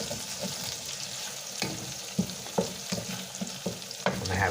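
Honey garlic chicken sizzles and fries in a pan while being stirred, with steady frying hiss and irregular scraping clacks of the utensil against the pan, moderately close.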